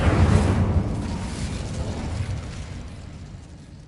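A fire spell cast in a Harry Potter video game, bursting out as a loud, dense whoosh of flame that peaks early and then slowly rolls off over a few seconds, with no talk.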